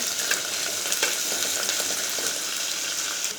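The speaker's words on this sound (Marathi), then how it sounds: "इथं थोडंसं तेल टाकून घेऊया। 4-5 कढीपत्त्याची पानं, एक छोटा कांदा, अद्रक लसूणची पेस्ट, 2-3 हिरवी मिरची, अशी कोथिंबीर सगळं हलवून घेऊया।" Curry leaves, onion, ginger-garlic paste and green chillies frying in oil, with a loud, continuous hissing sizzle and faint stirring scrapes throughout, no voices.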